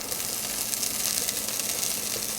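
Gnocchi searing in plenty of oil in a pan, giving a steady, dense sizzle and hiss that holds at an even level throughout, close up with no talk.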